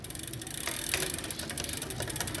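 A SRAM Force road bike shifter clicked one step at a time during a gear cable change: a few short mechanical clicks buried in a constant whirring, noisy background.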